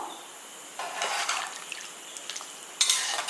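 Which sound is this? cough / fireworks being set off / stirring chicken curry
stirring chicken curry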